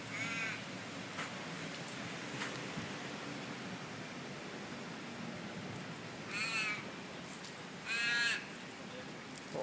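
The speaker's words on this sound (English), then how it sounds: "Crow's eating a parrot." A crow perched on a terrace caws while eating a parrot, giving a few harsh calls, the loudest two near the end, over faint steady outdoor background noise.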